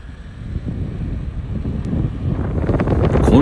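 Strong wind over the sea buffets the microphone of a drone speeding to about 70 km/h, a rough, rising roar that grows louder toward the end.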